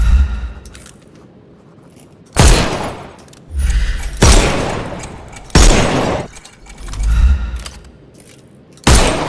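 Loud gunshots ring out at shooting-range targets in a Sherlock Holmes video game, about six sharp blasts spaced a second or two apart, each trailing into a long echoing decay.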